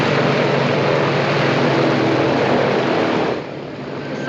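An airliner taxiing along a runway gives a steady, loud broadband engine roar with a low rumble, which eases off near the end as the plane comes to a stop.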